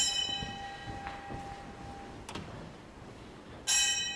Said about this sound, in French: on sonne une cloche, afin de réveiller les jeunes prêtres.